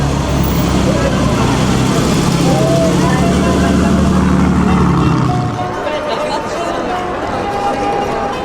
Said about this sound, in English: Nice Ferrari.